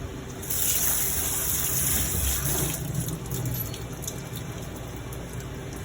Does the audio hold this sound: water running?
yes